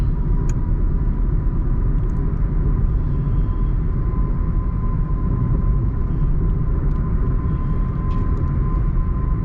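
Steady road rumble and engine drone inside a Toyota Taisor automatic in sixth gear, cruising and building speed toward 80 km/h on a highway, a constant broad noise with no talking.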